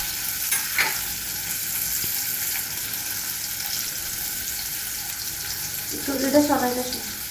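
Chopped tomato and onion sizzle in hot oil for a Bangladeshi-style fried chickpea dish, a steady crackling fry with occasional stirring scrapes and a louder burst of clatter near the end.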